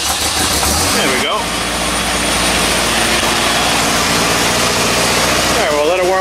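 A 1960 Triumph TR3A engine idles with a steady, loud rumble in a garage, with a brief rev near the start and end.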